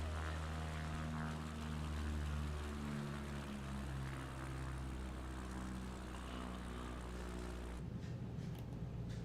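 A CubCrafters propeller plane in Microsoft Flight Simulator 2024 drones with a steady, close engine hum and harmonic whine, its pitch easing slightly before the sound cuts to a quieter, rougher tone near the end.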